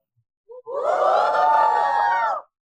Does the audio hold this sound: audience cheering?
yes